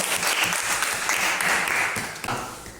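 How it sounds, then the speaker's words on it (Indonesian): Classroom of students clapping for a teacher's lesson, a short burst of moderately loud, close applause that trails off slightly toward the end. "Bagus sekali, tepuk tangan."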